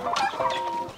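A silkie chicken clucks up close in a short, loud burst of several quick throaty clucks.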